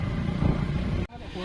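Motorcycles ride along a rough road near a waterfall, giving a steady close engine drone under a man's speech that cuts off abruptly near the end.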